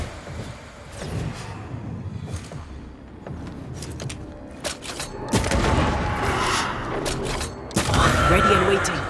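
Gunfire in the video game Banishers: Ghosts of New Eden, a run of sharp shots and booms that swell loudest toward the end, set over a dense game soundscape with speech present.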